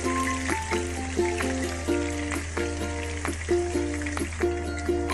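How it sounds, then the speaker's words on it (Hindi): Green chilies frying in hot oil for Hyderabadi mirchi ka salan, a steady close sizzle and bubbling with intermittent crackles, heard alone over a low constant hum. "ग्रीन चिलीज को अच्छे से फ्राई कर लेंगे।"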